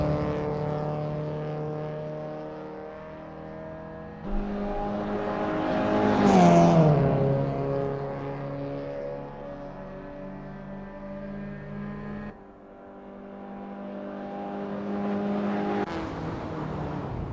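Race car engines from a Peugeot 205 GTi and a VW Mk2 Golf GTi on the Rostock Osthafenkurs street circuit in Assetto Corsa, droning steadily through an easy out lap, with a rising and falling rev pass midway and shifts in pitch.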